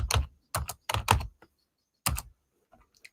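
Short clusters of close keystrokes clatter on a computer keyboard, separated by silent pauses, with a few faint taps trailing off at the end.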